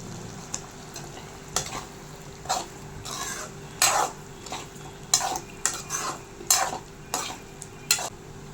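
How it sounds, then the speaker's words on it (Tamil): Boiled eggs being stirred into a sizzling mushroom pepper masala in a pan, with repeated scraping strokes of a spoon over a steady frying hiss, close and fairly loud, no talking. "இதுலேயே வேக வச்ச 4 முட்டை போட்டுக்கிறேன்."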